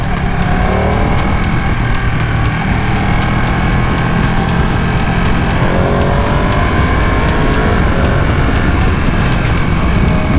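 A 2020 Ducati Panigale V2 sport motorcycle ridden on the road gives a loud, continuous engine drone with climbing and shifting pitch, mixed with heavy wind roar from the rider's position, no voices.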